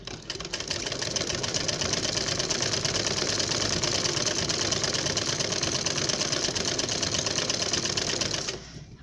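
Sewing machine running a continuous seam along the ruffles of a baby frock, a fast, even mechanical rattle close up and loud from start to finish with no talking.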